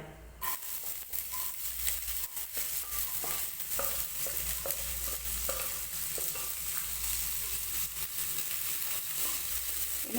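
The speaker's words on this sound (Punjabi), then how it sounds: "ਘਿਓ ਆਪਣਾ ਗਰਮ ਹੋ ਗਿਆ ਹੁਣ ਇਹਦੇ ਵਿੱਚ ਪਹਿਲਾਂ ਪਾਵਾਂਗੇ ਜੀਰਾ ਨਾਲ ਹੀ ਆਪਾਂ ਪਾ ਦਾਂਗੇ ਜੀ ਪਿਆਜ਼" Cumin and onion frying in hot ghee for homemade vermicelli maggi, a continuous soft sizzle with frequent stirring scrapes and a low background hum throughout, no speech.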